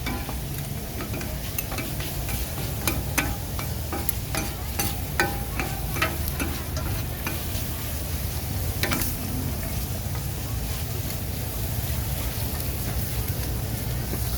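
Pork sizzles steadily on a Thai moo kratha grill pan at a busy market food stall, a continuous close frying hiss broken by small crackles and pops, with no talking.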